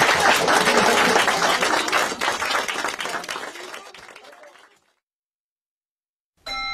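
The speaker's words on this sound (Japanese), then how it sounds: "この素晴らしいメンバーに大きな拍手 をありがとう。" Loud, dense audience applause and clapping in a studio during a live radio marathon broadcast fades away over several seconds into silence, then a brief burst of new sound begins near the end.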